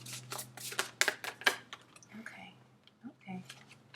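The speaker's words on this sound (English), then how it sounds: "Last shuffle." A deck of tarot cards is shuffled up close in a rapid run of crisp riffling flicks, then a few scattered soft card sounds and brief quiet speech follow.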